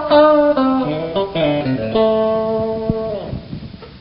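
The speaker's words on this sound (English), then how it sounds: "From that scale, you get licks that sound like this." Electric guitar licks drawn from a scale, with slides and bends over a few seconds, fairly loud and close, a clear melodic line alone without any voice.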